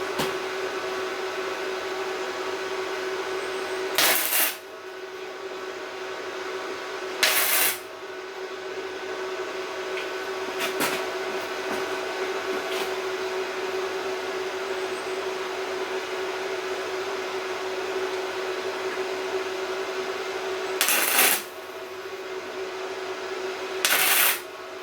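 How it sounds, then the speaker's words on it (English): Welding on a project bike frame gives a steady, loud buzzing hiss that runs almost continuously, broken by a few short crackling bursts as the weld works around one side. "first attempt at welding up one side of this, it's worked"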